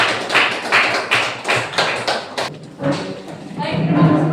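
A classroom of students in an Indonesian Catholic religious education lesson claps in a short, uneven burst of hand claps and taps that fades after a couple of seconds, with voices murmuring and talk underneath.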